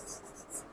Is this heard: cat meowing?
no